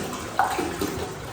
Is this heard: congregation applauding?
no